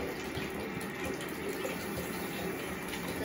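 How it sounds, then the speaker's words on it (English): Bragg's apple cider vinegar rinse pours steadily into a container for hair locs, a continuous close liquid gush with no speech. "Pour that in there."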